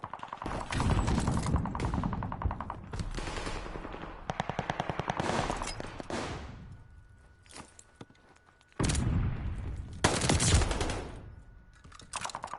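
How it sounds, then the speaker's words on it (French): Automatic gunfire from the video game Call of Duty Vanguard rattles in loud rapid bursts, separated by short pauses, with faint keyboard clicks and footsteps between volleys. "Allez, je tire dans sa tête, il crève pas quoi."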